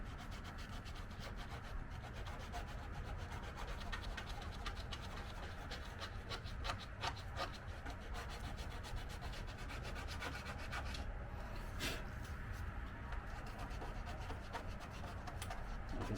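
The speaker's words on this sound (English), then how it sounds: "I want to try to get them all sanded down." Sandpaper rubs steadily over car body panels in a garage, smoothing small cracks and crevices in the paint. The rasping scrub is continuous and fairly quiet, with no voices.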